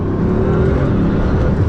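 A Bugatti Veyron accelerating hard, a loud, steady low engine roar heard from inside the cabin with no talking.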